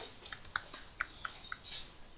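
Computer keyboard keys being typed in a short burst of about a dozen light, irregular clicks, close and fairly quiet, while a campaign name is entered in lead-capture software.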